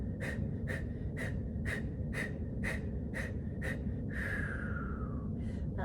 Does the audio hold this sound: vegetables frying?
no